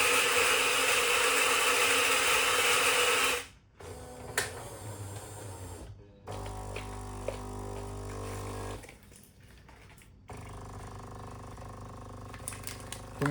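A Jura C9 coffee machine grinds beans and brews its first cup: a loud, dense grinder whir, then short pauses and a lower mechanical hum with clicks and pump rattle, close by with no speech.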